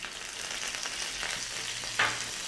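Shallots and curry leaves fry in a pan, producing a quiet, steady sizzle with soft stirring and one sharper scrape near the end, with no voices.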